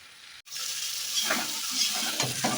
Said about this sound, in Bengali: মশলাটার সঙ্গে এই চর্বিটা খুব ভালোভাবে কষবে